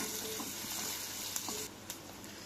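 Crushed garlic, mustard seeds and cumin sizzle in hot oil as a tempering for a Telangana brinjal stew, a steady close frying hiss with a couple of faint pops and crackles near the end.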